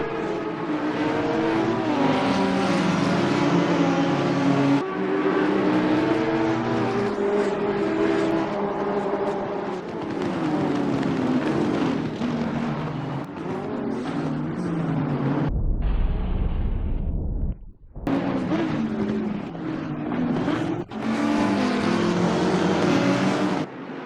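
A pack of race cars in a simracing game roars around the Mount Panorama circuit at Bathurst, loud layered engine notes rising and falling through gear changes, with a brief near-silent gap midway.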